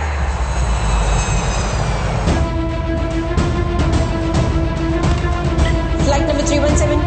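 A passenger airplane roars through a Telugu action film scene, its engine a loud, continuous drone carrying a rising tonal whine from start to finish.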